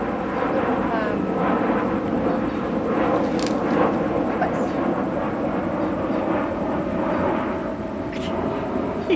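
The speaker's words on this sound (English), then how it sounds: "And there's the planes." Airplanes pass overhead as a steady, loud, broad engine roar that fills the whole stretch, with faint bird chirps on top.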